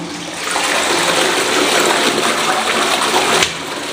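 Water runs steadily from a bathroom shower in a home, a loud continuous hiss and splash that fills the space and ends with a brief clunk, with no talking.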